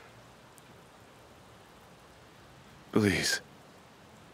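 Steady, soft rain falls in a romantic night scene, a faint continuous hiss throughout, briefly covered by a short spoken word near the end.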